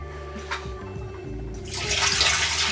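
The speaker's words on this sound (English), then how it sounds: "and then flush it on down" A camper's toilet in a truck camper flushing, with a few brief clicks and gurgles before a loud rushing surge of water swirling down in the last second.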